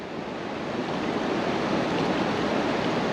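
A strong water current rushes continuously while a heavily loaded fishing net is hauled in, a dense, even roar of moving water close by with no voices.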